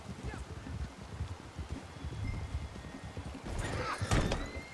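A horse in the video game Red Dead Redemption 2, with steady clip-clop hoofbeats running throughout, a brief whinny near the end and some wind rustle, fairly close and loud, while a person talks over it.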